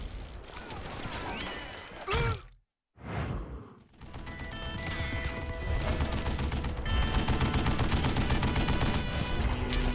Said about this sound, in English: Kid Curry opened up on me with a goddamn Gatling gun